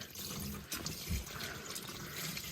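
Engine oil pouring from the drain of a 2015-2020 Ford F-150, striking a crossbar and spraying, a steady close splashing, liquid rush that carries on without a break.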